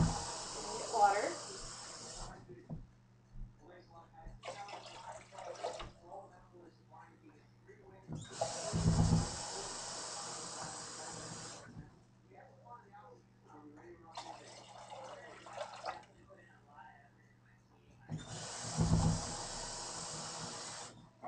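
Water is poured from an emptied chicken broth can into a soup pot in a home kitchen, making three separate hissing, splashing pours a few seconds each, with quieter gaps between them and a faint voice in the pauses.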